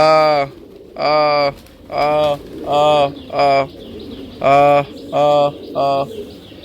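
Pigeons coo repeatedly, close and loud: a run of about eight throaty, rounded calls in a steady rhythm with brief pauses between them.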